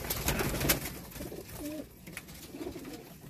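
Pigeons coo in a domestic setting, soft repeated low throaty calls close by, with rustling and background noise around them and no talk over the calls.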